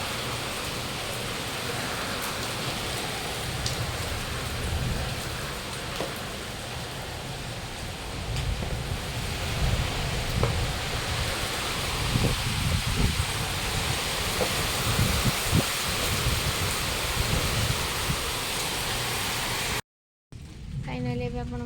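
Heavy rain with wind, a dense continuous roar of rainfall lasting throughout, steady and close, with a brief cut near the end.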